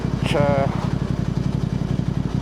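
A Voge 625DSX motorcycle fitted with a Scorpion exhaust idling nearby, a steady, even low burble with regular pulses, with a short voice at the start.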